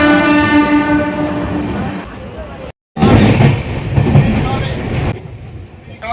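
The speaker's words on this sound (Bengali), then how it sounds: "এই স্টেশনে কিন্তু হল্ট নেই, তো সোজা বেরিয়ে গেল ট্রেন" The Tamralipta Express rushes through a station without stopping, opening with a loud sustained horn, then a roaring pass of rolling wheels and rattling carriages heard close by, with a brief cut partway through.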